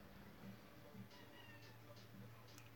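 Faint cat meows repeat a few times at a distance, short cries over a low, steady background hum.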